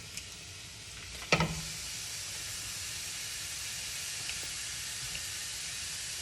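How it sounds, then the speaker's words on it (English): Ground meat sizzles in a frying pan with a steady loud hiss throughout, and a sharp clatter comes as the meat hits the hot pan. "Place the meat on the pan."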